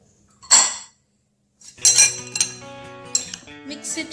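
A spoon mixing dry fruits and poppy seeds in a bowl, giving a few sharp clinks and scrapes against the dish with a pause between strokes, close and clear, no speech.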